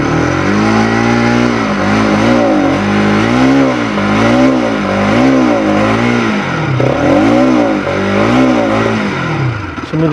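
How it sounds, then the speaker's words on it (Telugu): A 2025 Bajaj Pulsar RS 200 sport motorcycle revs up close and loud, its exhaust note rising and falling in a series of repeated throttle blips over a steady idle. "ఇప్పుడు ఒకసారి ఎగ్జాస్ట్ నోట్ మనం విందాము"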